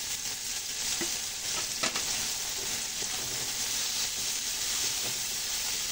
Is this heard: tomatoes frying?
yes